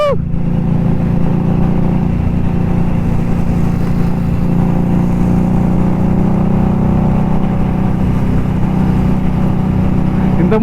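A superbike worth about twenty lakh rupees drones loudly and steadily through a ride, its engine a constant close roar with wind rush and no talk.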